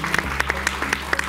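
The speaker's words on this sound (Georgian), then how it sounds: "აპლოდისმენტები" A television studio audience claps on a Georgian lie-detector talk show, a brief burst of steady, close applause with no voices.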